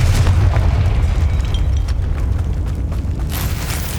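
A Confringo blasting spell detonates in Hogwarts Legacy, a loud deep boom with a sustained rumbling tail and scattered crackles, no talking.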